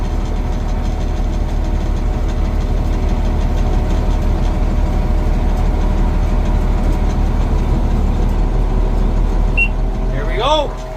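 A tractor-driven round baler runs in a field, making a loud, steady engine and machinery drone that continues unbroken throughout, with a brief rise in pitch near the end.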